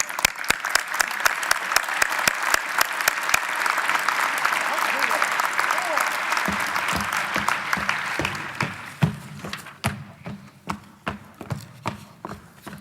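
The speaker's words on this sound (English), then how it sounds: "Another round of applause for Eric and Arlette." Applause from the audience at the organization session of the New Jersey General Assembly. Loud, sustained clapping with sharp individual claps on top. It thins into scattered claps, and a few voices are heard near the end.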